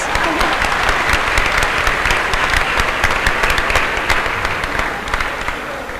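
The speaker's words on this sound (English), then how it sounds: "I think it deserves an applause." Sustained audience applause after a rehearsed, coordinated performance at a ceremony, dense and loud clapping from a crowd holding steady throughout before tapering slightly at the end.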